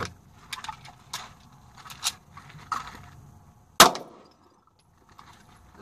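A single sharp pistol report from a Ruger SR40c or LC9, loud and close outdoors, follows several lighter metallic clicks and handling noises, then quiet.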